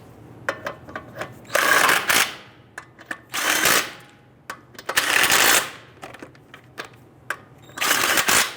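Lug nuts being threaded and snugged onto a wheel of a 2005-2010 Chrysler 300 by hand, with small metallic clicks and longer rattling spins in bursts, close and fairly loud.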